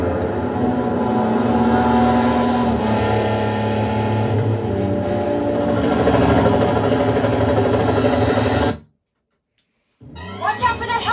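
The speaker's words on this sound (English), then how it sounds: "Watch out for that helicopter!" Helicopter in the video game 007 Agent Under Fire roars with a steady, loud engine and rotor drone that drops out abruptly for a moment, then returns with rapid chopping pulses.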